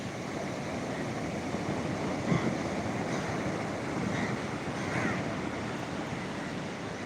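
Ocean waves wash onto the beach at Vizag, a steady, moderately loud surf rush with gentle swells, mixed with some wind buffeting on the microphone and no speech.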